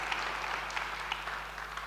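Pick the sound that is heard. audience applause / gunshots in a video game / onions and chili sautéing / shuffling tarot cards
audience applause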